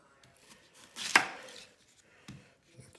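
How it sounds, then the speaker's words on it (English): A knife chops an onion finely, a few sparse close cuts with one sharp loud strike and quieter taps after it, no talking. "we're going to cut the onion now for this recipe"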